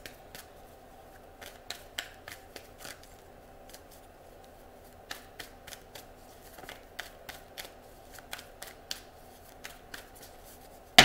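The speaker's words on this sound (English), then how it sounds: "I'm going to shuffle three more times and then we're going to jump in." Crisp, close riffling and snapping of tarot cards being shuffled in quick bursts, repeated several times in an otherwise quiet room.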